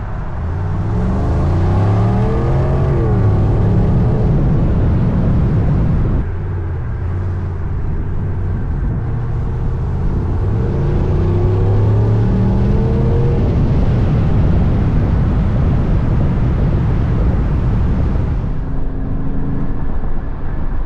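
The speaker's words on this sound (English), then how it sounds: "This is the perfect catback exhaust. There's no drone whatsoever." A 2024 Chevy Tahoe RST fitted with a catback exhaust cruises on the highway, its engine a steady, loud, close drone with tire and wind roar and brief shifts in tone, no talking.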